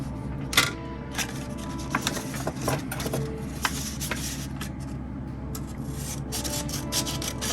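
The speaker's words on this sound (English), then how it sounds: "Yeah, I'm gonna sand this off. You know what? We should do that right now." A plastic part of a 1959 Revell USS Arizona 1:426 scale model being sanded by hand, a dry close-up rasping rub in short irregular strokes with a few light taps, fairly quiet and without talking.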